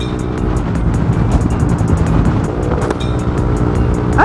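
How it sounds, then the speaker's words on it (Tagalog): Loud motorcycle engines roar continuously on the road near Kaybiang, a dense, steady rumble with a broad hiss on top and no speech. "Ah, lalakas ng motor nila."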